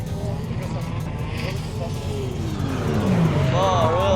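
At a roll racing event in Queensland, a Nissan Skyline R34 runs against a McLaren 720, with engines droning and a rising, then falling pitch as a car sweeps past, while a commentator talks over the sound.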